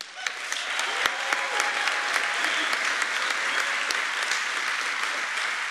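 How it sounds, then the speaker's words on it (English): An audience at a city State of the City address breaks into sustained applause, a full, even roar of many hands clapping at steady loudness throughout. "I'm going to ask you to hold your applause to the end"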